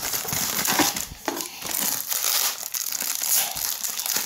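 Large-bubble wrap around new Asus ZenFone Max phones being crinkled and crushed during unboxing, a loud, close, continuous crackling and rustling with brief pops and no talking.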